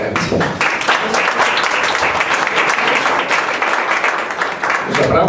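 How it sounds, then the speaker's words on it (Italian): A room full of people at an Italian book presentation applauds warmly, dense sustained clapping filling the space for several seconds, with voices mixed in underneath. "l'applauso ovviamente per Antonio Toma."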